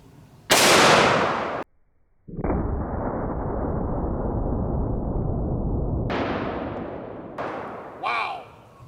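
A Smith & Wesson Model 460 revolver with a 14-inch barrel firing a 300-grain jacketed hollow point at a transparent shield outdoors, one loud close blast followed by another long roaring burst, with brief speech afterward.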